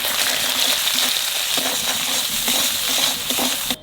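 Spice paste of ground chilli and ginger with salt and turmeric frying in a pan for a Bengali rohu fish curry, giving a steady, close sizzle with scattered scraping stir clicks throughout.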